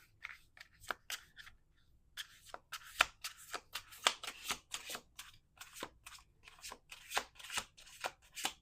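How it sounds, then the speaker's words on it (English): A deck of tarot cards is shuffled by hand, giving quiet, close, crisp riffling bursts in an uneven rhythm with brief pauses between them. "Last shuffle."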